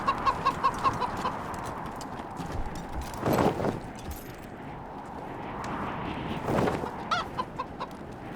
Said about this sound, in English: Oh, there's a chicken down here.